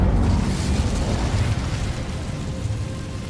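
Incendio fire spell cast in the video game Hogwarts Legacy: a loud, close, roaring burst of flame that starts at full force and slowly fades, with no voices over it.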